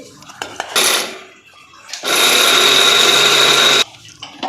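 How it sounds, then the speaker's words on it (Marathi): Two bowls of peanuts being ground in an electric grinder, made into a paste for jaggery-peanut poli. There are short clatters, then a loud whirring grind of about two seconds that cuts off sharply. "दोन वाट्या शेंगदाणे झालेली आहेत तर आता ना अगोदर ही वाटून घेते"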